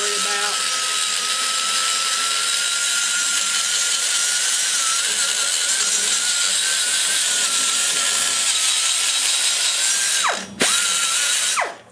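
A grinding stone porting an aluminum Chevy LT-1 cylinder head whines steadily and close at a high pitch for about ten seconds, breaking off briefly near the end before resuming and stopping.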